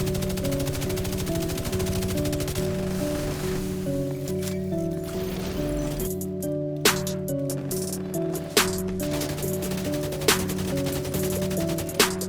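Gunfire in The Division 2 comes as a few sharp, separate shots spaced a second or two apart, heard under steady droning game music.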